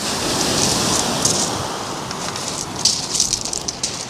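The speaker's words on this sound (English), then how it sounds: "As you can see, it's still raining." Steady rain falls during a sea fishing trip, a dense, even hiss close by with faint splashy patter building slightly toward the end.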